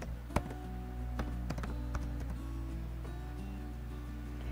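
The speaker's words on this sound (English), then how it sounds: "So we'll go back into the text box and type in." Text is typed into a design program on a computer keyboard: scattered, uneven key taps, some sharper than others, over a steady low room hum.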